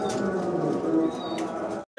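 A male Russian Angel blue bar pigeon coos in a low, throaty, continuous rumble close by while chasing a hen, ending in a brief dropout.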